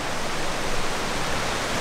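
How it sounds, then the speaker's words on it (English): A waterfall and running water in a hidden oasis among ancient trees in a New South Wales national park in Australia, a steady, dense, full rushing roar with no voices. "I could hear running water further down, so I ventured down and we just came to this little hidden oasis. There's another waterfall"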